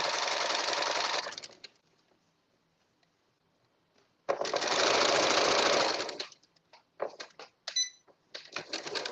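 A sewing machine stitching the seams of a girl's dress sash, two long loud whirring runs separated by a quiet pause, followed by several short choppy bursts, close and with no speech.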